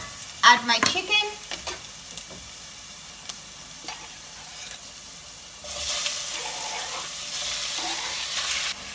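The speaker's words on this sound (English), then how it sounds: "When frying meat, like chicken, if you're using coconut oil, it won't tend to brown as well" Chicken stirred and sizzling in coconut oil in a pan, a few loud stirring clatters early on, then a steady close frying hiss that swells in the second half.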